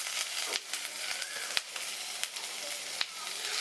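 Finely chopped ginger sizzling in hot oil in a pan for toor dal, a steady bright frying hiss with crackles and occasional sharp pops throughout, close and without talk.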